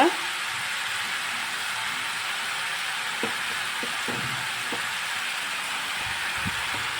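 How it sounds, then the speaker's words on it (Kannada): Chicken frying over a medium flame for pepper chicken gives off a steady, even sizzling hiss, close and constant, with a few soft knocks of the pan. "ಮೀಡಿಯಮ್ ಫ್ಲೇಮಲ್ಲಿ ಇಟ್ಕೊಂಡು ಚೆನ್ನಾಗಿ ಫ್ರೈ ಮಾಡ್ಕೊಳ್ಳಿ"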